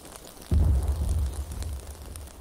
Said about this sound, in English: Wow, explode underwater.